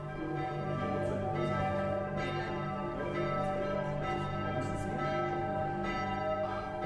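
Church bells of the Stephanuskirche in the abandoned village of Gruorn ring in a steady, continuous peal with sustained overlapping tones at an even loudness throughout, with no voices.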